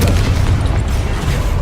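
A Confringo explosion spell goes off in the video game Hogwarts Legacy, a loud, dense booming blast whose broad roar fills the entire short moment without letup.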